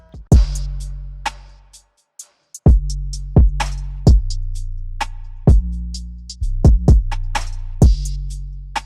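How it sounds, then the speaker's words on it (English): A punchy drum loop with deep kicks, snappy hits and a sizzling open hi-hat, playing a bouncy, slightly uneven groove with no voices. "So all together, this is how all the drums sound."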